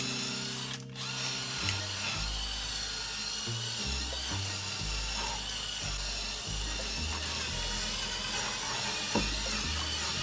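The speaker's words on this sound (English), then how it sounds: "I'm going to use this drill and this soft bristle brush to help me get rid of all the little pieces" A power drill fitted with a soft bristle brush whirs continuously up close while it scrubs loose bits of granite away, its motor pitch stepping up and down as the pressure shifts.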